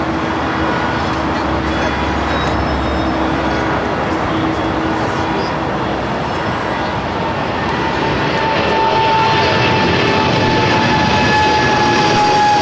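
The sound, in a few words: Boeing 777 freighter rolling down the runway at LAX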